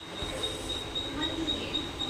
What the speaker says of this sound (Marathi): आता मी वडालेला पोहोचलो आहे वडाला रेल्वे स्टेशन